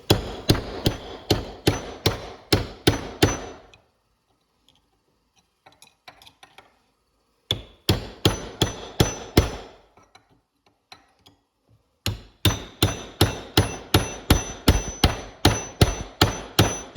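Sharp metal-on-metal hammer blows drive a punch against transmission bushings during a 4R75W swap. The strikes come in three fast, loud bursts with quiet gaps of faint clinking between them, and no talk.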